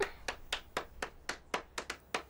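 A small audience claps sparsely at a French game show, about nine separate, fairly slow claps in an uneven rhythm, heard close and alone.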